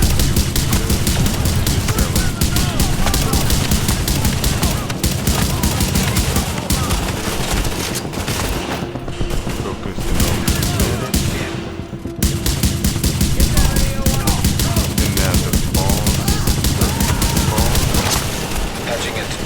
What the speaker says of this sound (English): Reporting gunfire in the station above us.